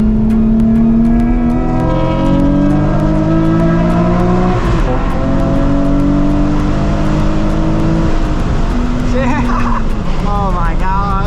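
A Nissan 350Z HR accelerates hard onto a freeway, its engine climbing in pitch through several gears with shifts between rising tones, loud and close from inside the car.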